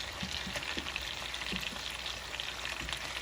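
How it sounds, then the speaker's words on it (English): Butter melting in a hot pan for Cajun chicken thighs gives a steady, close sizzle and crackle, with small pops scattered throughout and no talking. "Get our butter down in there so it can melt."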